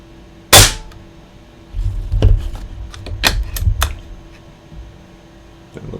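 A Benjamin Marauder .177 air rifle fires a single H&N slug with a sharp, loud, close crack, followed by softer mechanical clicks and clatter as the gun is handled.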